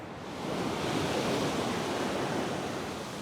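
Ocean surf washes far up a beach, a broad, steady rushing roar that swells in over the first half second and then holds loud and close.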